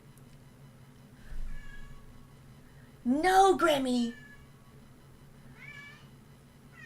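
Cats meowing indoors: a faint meow, then a second meow a few seconds later, both quiet under room tone, with a person speaking loudly between them.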